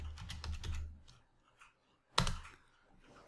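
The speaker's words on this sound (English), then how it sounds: "So I could just type in the search field" A computer keyboard clatters as a word is typed into a search field, a quick run of close keystrokes, then a pause and a single sharp click, soft overall with no talk.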